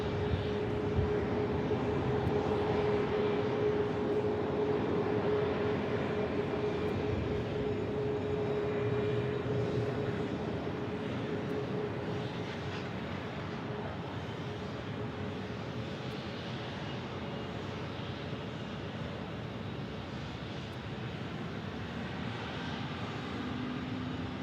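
An Airbus A321neo bound for Chicago gives off a steady jet engine rumble with a clear tonal whine, louder early on and easing gradually as it moves away, with no voices.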